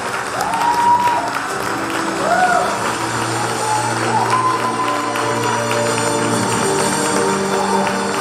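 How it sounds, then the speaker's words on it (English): Applause from an audience at a college day award ceremony, steady crowd clapping with some cheering and a voice speaking over it. "We have a huge round of applause for the Best Outgoing Student for PG."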